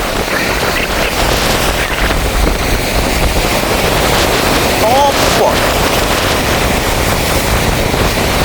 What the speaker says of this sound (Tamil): அந்த புயல்னால இவ்வளோ அலைகள் வந்து இவ்வளோ ஆக்ரோஷமாக